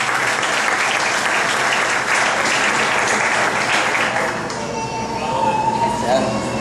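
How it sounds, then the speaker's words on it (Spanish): An audience applauds a young poet at an event, sustained loud clapping that thins out toward the end, with voices mixed in. "Vamos a recibir con un fuerte aplauso al joven Juan Bautista Herrera"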